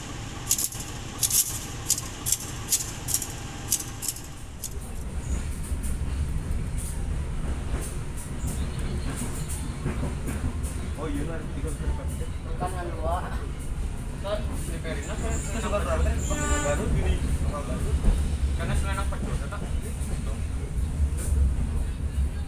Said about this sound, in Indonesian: Ini dia suasana lokomotif kereta api lokal Cibatuan yang akan mengantarkan saya ke tujuan akhir